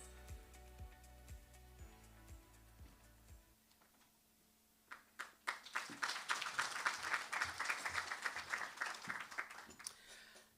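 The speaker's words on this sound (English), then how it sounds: "If we can do that round of applause again." A university audience at a campus event breaks into applause halfway through, a modest, slightly distant patter of clapping that follows low rhythmic tones at the start.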